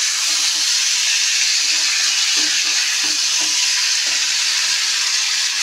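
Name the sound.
chopped tomato added to frying pan, sizzling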